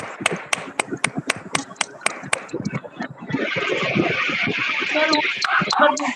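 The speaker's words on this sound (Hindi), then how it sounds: "दो ताली।" A hall audience at a business event opening claps in a quick, sharp, evenly spaced rhythm of about nine claps, then gives way to a murmur of crowd noise and voices.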